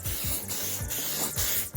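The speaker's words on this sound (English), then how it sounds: "So you just spray it on" Protectant spray misted onto a car's interior trim in several short bursts, close and loud, each a broad steady hiss with brief gaps between pumps.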